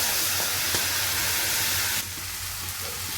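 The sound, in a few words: onions and tomatoes frying in pan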